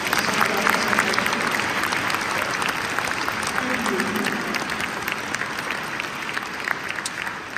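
A large audience applauds a choir at a school orchestra concert, producing a thick, continuous roar of clapping with crowd murmur, loud and steady from start to finish.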